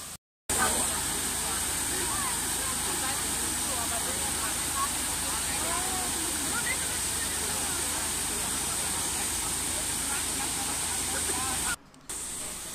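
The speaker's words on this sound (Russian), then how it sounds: "Фонтан Треви – одно из самых красивых мест Рима, но около него всегда многолюдно." Water from the Trevi Fountain in Rome splashes and rushes in a steady broadband roar, with a crowd murmuring faintly underneath the constant spray.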